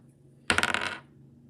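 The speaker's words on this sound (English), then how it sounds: "I'm rolling a different dice" Dice are rolled during a tabletop game, making one brief clattering rattle of about half a second. The tumbling clicks are close and fairly soft, with no talk around them.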